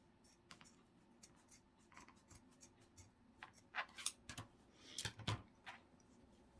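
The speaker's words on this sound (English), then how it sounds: "I'm just gonna cut the felt straight across here." Scissors snip through felt in a straight line across, producing a series of quiet, crisp cutting clicks and rasps that grow somewhat louder and closer toward the end.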